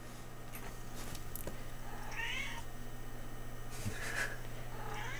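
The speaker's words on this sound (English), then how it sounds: "He's a big kitty." A big cat meows twice, two drawn-out close cries a couple of seconds apart over a steady electrical hum, with faint background noise between them.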